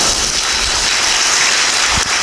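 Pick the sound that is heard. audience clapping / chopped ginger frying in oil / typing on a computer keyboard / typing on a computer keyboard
audience clapping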